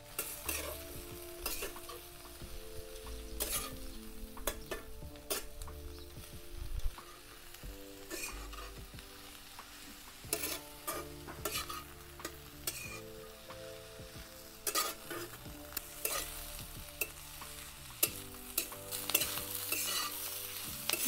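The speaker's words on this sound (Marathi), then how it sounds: "भाजी हलवून घेते" Ghaturle wild vegetable being stirred and tossed in a pan, repeated scraping and clinking strokes of a spatula over a soft, quiet sizzle, close and without talk.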